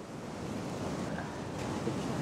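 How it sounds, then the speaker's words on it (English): Winter surf rolls onto the beach at Sunny Beach, Bulgaria, a steady broad wash of breaking waves mixed with wind buffeting the microphone, with no distinct voices. "Watch the waves coming in"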